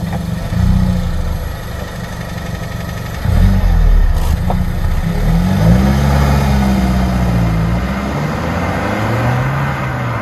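A 2021 Suzuki Swift Sport mild-hybrid car pulls away and accelerates, its engine droning low and steady from inside the cabin, the revs climbing and falling through gear changes over about ten seconds.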